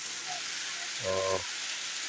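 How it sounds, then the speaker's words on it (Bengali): Heavy rain pouring onto an empty road, a constant dense hiss of falling water throughout, with a brief low tonal hum from a passing vehicle or machine midway. "এখানে খুবই জোরালো বৃষ্টি হচ্ছে"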